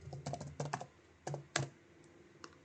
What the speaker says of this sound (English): I'm just going to type in my password to get into it.